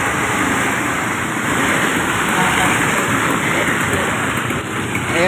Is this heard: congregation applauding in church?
no